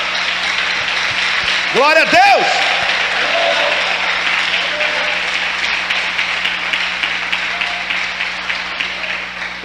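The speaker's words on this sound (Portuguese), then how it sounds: "Pode dar uma salva de palmas ao Senhor." A church congregation at a conference applauds in a steady wash of clapping while a preacher shouts over it, with the voice sitting on top of the crowd for most of the stretch.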